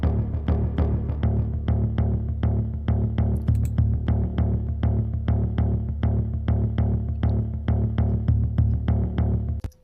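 A programmed arpeggiator pattern in cinematic guitar sound design pulses steadily over a deep droning bed, with evenly spaced plucked hits repeating for about ten seconds before stopping abruptly.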